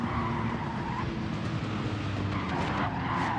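Race car skidding out of control in Gran Turismo 7 on the Grand Valley Highway 1 track, a continuous loud roar of engine and tire noise holding steady throughout with a rising squeal near the end, no talk.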